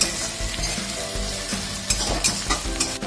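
Ginger garlic paste frying in hot oil over high flame alongside onions in an egg curry, a steady dense sizzle with scattered stirring scrapes and clinks, close and fairly loud throughout.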